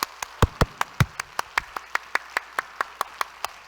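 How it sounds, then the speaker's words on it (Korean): Steady rhythmic clapping from a group, crisp evenly spaced claps with a few heavier ones early on, no talking. "뜨겁게 박수."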